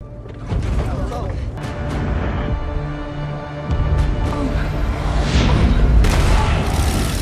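A deep, sustained rumbling roar with heavy booming low end from a meteor impact explosion, swelling louder toward the end with crackling debris.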